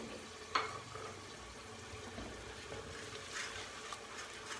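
Ground coriander, salt, red chili powder and turmeric roast in a hot pan for palak chana dal. There is a faint, steady sizzle with a brief clink of stirring near the start, and no talk.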